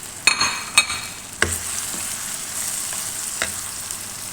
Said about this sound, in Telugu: ఇదిగో చికెన్ వేసేద్దామండి.